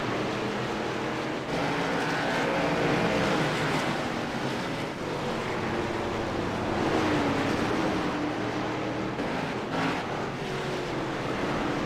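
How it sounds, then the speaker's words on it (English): Race cars lap the Lanier track in iRacing, a steady broad engine and tyre roar that rises and falls slightly as cars pass, continuous and fairly loud with no talk. "looking at live pictures as Danny Chisholm continues to make the rounds around the track."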